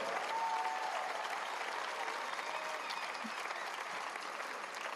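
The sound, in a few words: audience applause in arena concert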